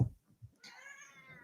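A pet cat complains with a single drawn-out, close meow near the end, after a few soft knocks and thumps.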